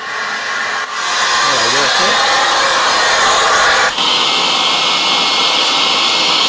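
A Cecotec Conga Rockstar stick vacuum cleaner runs at full power, a loud close whine that rises as it revs up after a brief pause and holds steady with a short dip midway.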